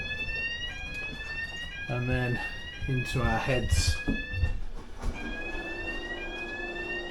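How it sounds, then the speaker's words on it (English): An alarm sounds aboard a Sunseeker 88 yacht, a repeating high electronic chirp pattern running throughout at moderate level while someone talks over it and mechanical clatter briefly surges mid-way. "There's an alarm going off."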